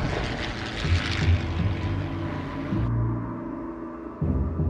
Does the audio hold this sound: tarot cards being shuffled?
no